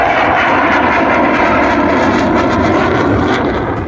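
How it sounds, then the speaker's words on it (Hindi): Three Indian Air Force fighter jets fly in formation over the Purvanchal Expressway airstrip, a loud, dense jet roar filling the air without letup and easing slightly at the end. "देखिए किस तरह एक साथ 3 लड़ाकू विमान पूर्वांचल एक्सप्रेसवे के ऊपर आसमान में लहराते हुए तिरंगे बना रहे हैं"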